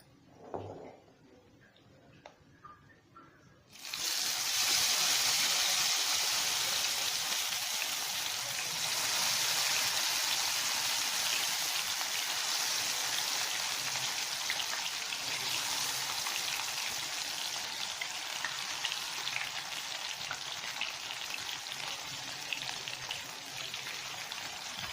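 Mushroom 65 deep frying in hot oil: after a quiet few seconds, a loud, steady crackling sizzle bursts in and continues densely throughout, close and unbroken.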